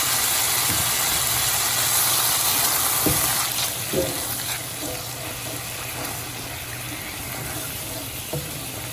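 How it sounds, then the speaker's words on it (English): White wine reduces in a pan for a cream sauce for pan-seared chicken, giving a steady simmering hiss with a few faint clicks of a utensil against the pan. "We're going to cook this wine until all the alcohol is off and there's not much liquid left."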